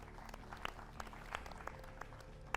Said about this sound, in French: Un tonnerre d'applaudissements pour lui.